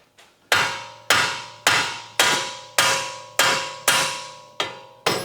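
A hammer strikes the steering parts of a 2015 Volkswagen Jetta electric steering rack in a steady series of about nine sharp, ringing taps, evenly spaced and loud, with no talking.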